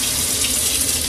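Warm tap water pours steadily from a kitchen faucet into a cup, a continuous close hiss and splash with no voices, while water is measured for a sourdough starter.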